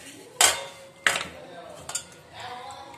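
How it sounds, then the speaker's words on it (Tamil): Lamb leg pieces dropped into a pressure cooker, giving three separate clattering impacts of meat and metal, the first two loud and close, a smaller clink near the end, with quiet kitchen background between. "இப்போ குக்கரில் போடுறோம்."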